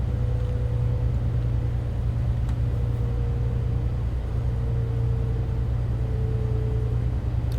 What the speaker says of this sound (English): I'm going to apply the brakes for our stop